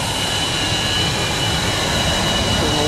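Steady, loud roar of a jet airliner engine at Atlanta airport, a continuous broadband rumble with a whining high tone that holds evenly throughout, with no talk over it.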